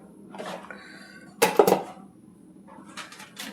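A metal spoon clatters against a frying pan while oil goes in for a homemade masala noodle sauce: a few soft taps, then a sharp, loud cluster of clanks at close range, with no talking.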